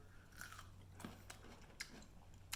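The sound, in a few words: crunching on a homemade pickle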